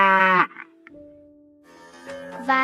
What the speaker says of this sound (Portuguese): Vaca.